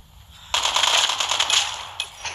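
Call of Duty video game gunfire, a loud sustained burst of rapid automatic shots lasting over a second, then a single later shot.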